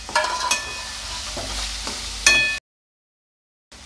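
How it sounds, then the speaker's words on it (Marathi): Chopped onion sizzling in a pan while a spoon stirs it with scraping clatters, the frying steady and close before cutting abruptly to silence. "आता यामध्ये चिरलेला कांदा टाकून तोही आपण फ्राय करून घेणार आहोत"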